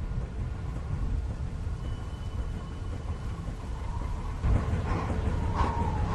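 Storm rumbles loudly and steadily throughout a Walking Dead video game scene, with a windmill spinning out of control in the wind, a heavier surge near the end.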